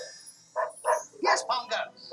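Recorded Dalmatian barking played as an effect in a Magic Kingdom attraction, a quick run of five or six close, clear barks and yips.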